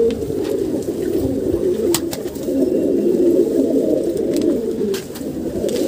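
Large pigeon cooing close by in a steady low, throaty murmur that continues through the stretch, with a few faint sharp clicks and rustles over it and no talk.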